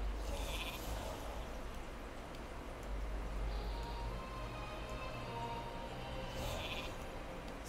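A sheep in the game Eon's Fringe lets out sporadic bleats, at the start and again near the end, set against a continuous low game ambience with no voices.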